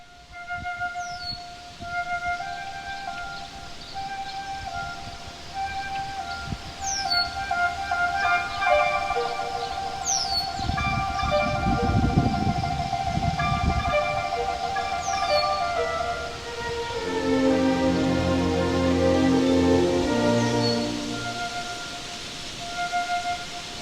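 Beethoven's Pastoral Symphony: an orchestra holds soft sustained tones while high woodwinds trill and chirp in imitation of nightingale, quail and cuckoo calls, with brief bright birdlike figures repeating over a gentle swell.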